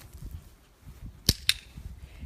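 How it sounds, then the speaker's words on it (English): Two sharp, close clicks from a dog training clicker, spaced about a fifth of a second apart, standing out clearly over a faint low background rumble with no voice. "some of my training partners will use a clicker"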